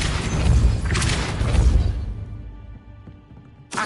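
A Depulso repelling spell cast in the Hogwarts Legacy video game: a loud, rumbling whooshing blast that swells twice over about two seconds, then fades into a quiet tail before a short bright burst at the end.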